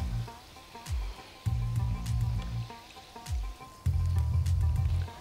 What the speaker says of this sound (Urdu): میں نے پورا چکن اپنے آئل میں ایڈ کر دیا ہے ڈیپ فرائی کرنے کے لیے